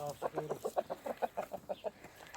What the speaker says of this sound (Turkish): Horozlar bunlar da.